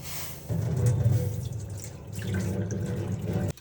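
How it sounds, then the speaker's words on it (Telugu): Cooking water being strained off, pouring in a steady splashing rush for about three seconds before stopping abruptly, close and fairly loud with no voices. "ఇప్పుడు ఈ ఈ వాటర్ని అంతా వడగట్టేసుకుంటాను"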